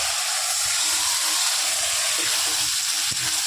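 Boiled, thinly sliced potatoes hit hot masala in a pan, giving a dense, loud, continuous sizzle and hiss with light stirring knocks beneath and no talking.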